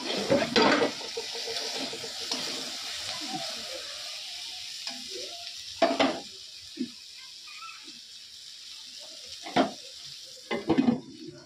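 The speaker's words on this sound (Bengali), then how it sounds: "এখানে আমি উচ্ছে ভাজাটা বসিয়ে দিয়েছি।" Bitter gourd frying in a pan at home, a soft steady sizzle running throughout, broken by several sharp utensil knocks and scrapes against the pan, close by with no talk.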